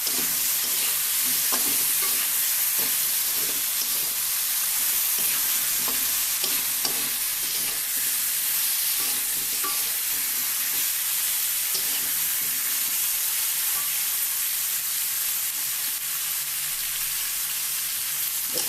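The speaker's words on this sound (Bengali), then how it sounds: "আলুটা খুব সুন্দর করে ভেজে নেব আমি অতিরিক্ত তেল ব্যবহার করব না অল্প তেলেই হয়ে যাবে" Potatoes fry in a little oil for a tomato chicken dish, making a loud, continuous close-up sizzle and hiss with frequent stirring scrapes that keep going steadily, with no talking.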